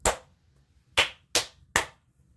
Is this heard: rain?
no